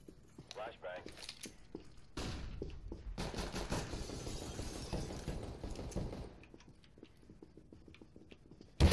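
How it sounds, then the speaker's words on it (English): A flashbang grenade goes off in the video game Counter-Strike: Global Offensive, a sudden loud burst followed by several seconds of noisy ringing and wash, with gunfire and game sounds around it. "Flashbang."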